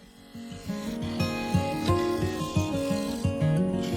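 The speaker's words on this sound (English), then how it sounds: "I swapped the gouge for the skew chisel and blended the cutout into the lower section of the bowl" Skew chisel shearing a cherry wood bowl on a spinning lathe: a steady motor hum under a rhythmic, rasping scrape that pulses in regular strokes, close and moderately loud, with no speech.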